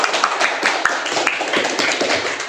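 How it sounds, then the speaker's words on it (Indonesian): A class claps after a group presentation, a dense stretch of many hands applauding at close range with irregular sharp slaps throughout. "Kasih aplaus ya."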